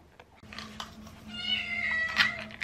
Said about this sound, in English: I don't know if you can hear the squeaking behind me, but Luna is waiting for her breakfast